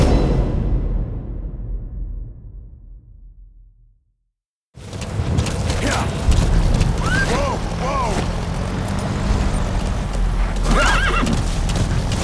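In Metal Gear Solid V, a horse whinnies twice and its hooves clip-clop in a steady galloping rhythm over wind and outdoor ambience, following a fade to silence.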